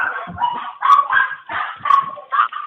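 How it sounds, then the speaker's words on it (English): A dog barks repeatedly in a fairly close, loud series of yips and barks while an emergency phone call is under way, with no talk during the barking. "That's a dog."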